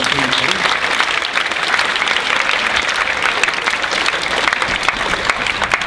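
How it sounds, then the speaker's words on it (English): A school assembly audience gives a councillor a sustained round of applause, dense steady clapping from many hands filling the room evenly throughout. "a round of applause for Mr. McQueen"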